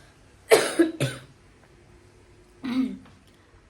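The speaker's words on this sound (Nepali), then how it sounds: "मलाई चाहिँ खोकी लागिरहेको छ" A person coughs and clears their throat: a quick burst of two or three coughs, a pause, then another rough cough, close and clear against a quiet background.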